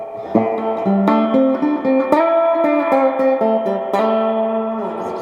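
Electric guitar played through the hall reverb of a Boss Katana MK II 50-watt amp, clean plucked notes and short phrases ringing out with a long, spacious reverb tail, heard alone.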